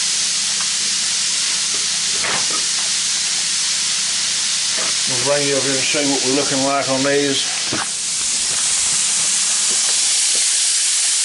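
Shrimp deep-frying in hot oil at about 350 degrees give a loud, steady hiss and sizzle throughout. Someone speaks briefly partway through over the bubbling.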